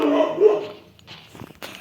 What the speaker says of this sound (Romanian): dacă vă întrebați ce a fost asta, a fost cățelul meu nebun